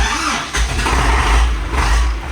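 YuMZ-6 tractor diesel engine starting, a loud close churning crank that catches into a rough, steady running rumble.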